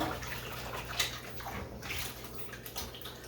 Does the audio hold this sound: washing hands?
yes